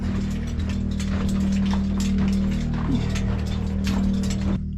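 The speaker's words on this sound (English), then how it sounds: "Okay, the air compressor's on." An air compressor at a gold mine runs continuously with a steady droning hum, overlaid by rapid mechanical clatter and ticking, loud and close, before cutting out at the very end.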